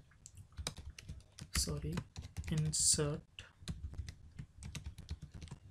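Rapid clicking on a computer keyboard, close and continuous in uneven bursts, with someone talking over part of it.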